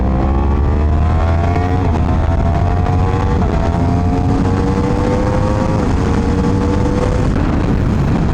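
A tuned 2023 Yamaha R1 sportbike engine revs loud and close, its pitch climbing in repeated rising sweeps with brief dips between, a continuous high-rpm howl and no talking.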